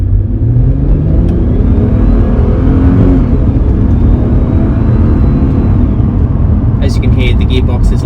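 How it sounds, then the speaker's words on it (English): A Mercedes SL350 R230 accelerating in sport mode, its engine and exhaust giving a loud, steady rumbling drone with rising and falling whine, heard close up from inside the car, with a few light clicks near the end. "if you put it in sport, which is my personal favorite setup,"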